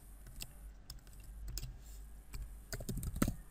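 Keys clatter on a computer keyboard in a quiet, steady run of close typing clicks with no voices.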